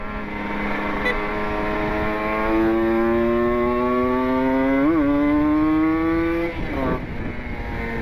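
Kawasaki Ninja RR two-stroke motorcycle ridden close up with a steady droning engine note, pitch climbing gradually as it accelerates, then a brief throttle blip and a drop near the end.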